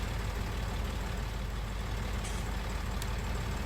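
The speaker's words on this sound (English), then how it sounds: "Leave the tractor running for a bit." A farm tractor left idling after a jump-start, a steady low engine rumble running throughout, fairly loud and close, with no talk.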